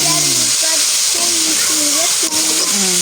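Carrots sauté in a hot pan with a loud, steady hiss and sizzle that lasts throughout, while a person talks over it.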